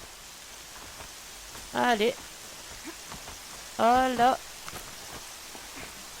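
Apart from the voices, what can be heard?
rain falling in Horizon Zero Dawn video game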